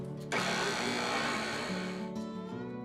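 An electric mixer whirs loudly at a steady pitch as it beats gingerbread latte cupcake batter with ginger and melted butter. It starts abruptly, runs for about two seconds, then stops, with a voice heard faintly underneath.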